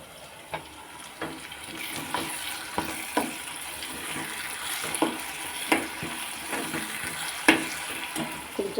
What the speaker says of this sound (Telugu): ఇప్పుడు ఇదైతే కొంచెం ఆయిల్ పోసుకొని కలిపేసుకోవచ్చు